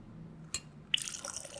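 Sprite is poured into a glass: a short splash, then a steady fizzy pour that carries on to the end, fairly close and with no talking.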